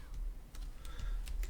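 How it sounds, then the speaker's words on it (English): Computer keyboard keys are pressed in a quick irregular series of soft clicks, about six taps over a moment, faint and close with a low background hum and no talking. "hit the J on your keyboard to combine them"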